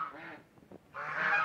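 Domestic geese (rajhash) on a village farm give two close, loud nasal honks separated by a short quieter gap with faint fowl noises.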